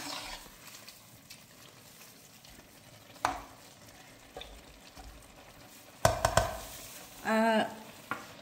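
Quiet stirring of carrot halwa with milk in a pot, a spoon scraping through liquid now and then over a soft sizzle, with a brief squeak near the end.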